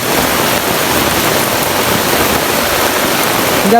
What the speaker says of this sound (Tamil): இவ்வளோ வெள்ளம் வந்து பெருக்கெடுத்து ஓடிக்கொண்டிருக்கோம்னு பாருங்க